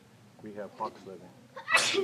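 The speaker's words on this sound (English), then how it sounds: "There's a sound we hear in Lawrence, sneezing." A person sneezes once, loudly and abruptly, right after someone speaks briefly.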